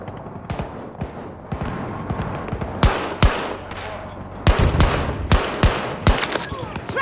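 Gunfire in Battlefield 2042 on the hardcore Arica Harbor map, with repeated sharp shots in uneven bursts, some clustered and loud, set against a steady game background.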